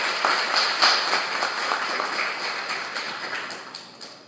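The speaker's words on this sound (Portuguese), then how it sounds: "peço uma salva de palmas para a gente receber a professora" An audience at a university astronomy event applauds to welcome a professor, a dense steady wash of clapping filling the room at close range.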